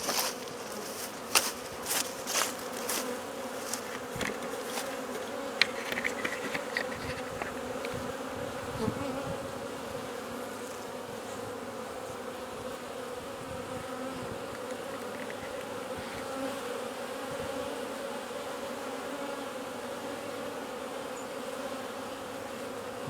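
A dense, steady buzzing of many active bees at a hive fills the air, close and continuous, with a few louder individual buzzes passing early on.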